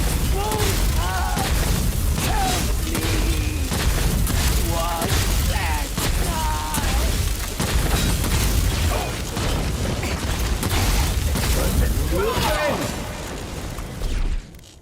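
Electric grenades detonate in the fantasy game Avowed as a dense run of booms and crackling pops over a busy battle, with game music and chirping effects layered throughout.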